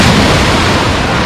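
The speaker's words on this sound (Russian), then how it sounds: "А тут сразу как назло волны, точнее как хорошо" Sea waves crash onto Lazurny beach in Lazarevskoye, producing loud, close, broadband surf noise that rolls throughout, with no voices.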